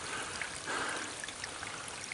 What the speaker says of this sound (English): A lot of your streams, like this here, they're spring fed.